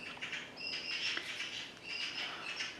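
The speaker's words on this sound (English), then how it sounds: "You have to excuse the bird noise." Several pet birds chatter and chirp indoors in a room, with bright, repeated calls rising and falling across the moment; no one talks.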